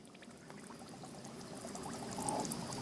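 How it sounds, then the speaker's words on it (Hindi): Water pours and trickles steadily as coco peat bricks are soaked for a tomato seedling tray nursery, a continuous close splashing wash that swells slightly toward the end, with no voices over it. "इसको पहले खोल करके उसके बाद आपको ये ब्रिक्स को क्या करना है कि पानी में डुबो देना है"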